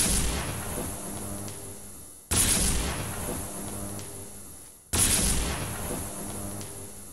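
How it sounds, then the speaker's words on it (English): Tesla Cannon energy weapon from a Fallout 4 mod firing three times at an even spacing, each a heavy, abrupt blast with a long decaying rumble. "Starting off with this Tesla Cannon, this has a really cool sound effect that just makes it feel super beefy and powerful"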